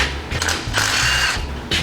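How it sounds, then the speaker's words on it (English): A ratchet wrench clicks in quick bursts while backing bolts out in a fabrication shop, close and fairly loud with brief pauses between strokes and no talking. "Well, take some bolts out then."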